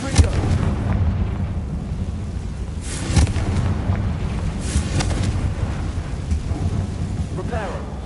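Confringo fire blast spell exploding in Hogwarts Legacy, loud booming blasts with rumbling, crackling debris over a continuous roar, a sharp burst near the start and another around the middle.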